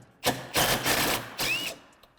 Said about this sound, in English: we're going to remove this little bolt with an 8mm socket.